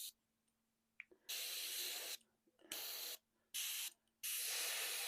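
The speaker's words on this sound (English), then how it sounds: "make sure the brush is spraying good" Airbrush spraying Vallejo metallic paint while detailing Warhammer Predator tank models: four sustained bursts of hissing air spray, each about a second long, separated by short silences, close and loud.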